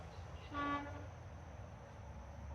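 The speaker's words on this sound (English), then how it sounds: "I'm close to the street, sorry about the noise" A single short car horn toot sounds faintly over a low, steady rumble of nearby street traffic.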